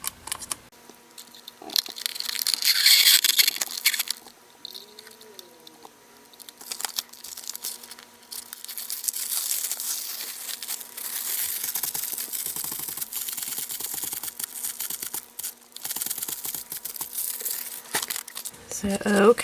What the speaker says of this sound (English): my Xyron sticker maker here, I'm going to run all of these pieces through